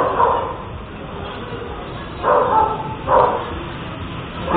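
A dog barks outdoors in short bursts, three or four loud woofs spaced a second or so apart over a steady background hiss, with no talking in between.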